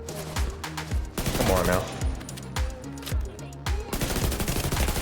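Rapid assault rifle bursts in a shooter video game, loud and repeated in several sustained volleys, with someone talking briefly over the firing.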